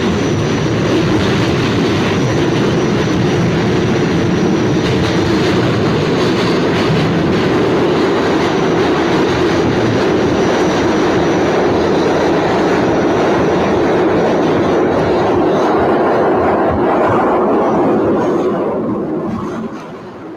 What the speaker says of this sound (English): this is a video from a Subway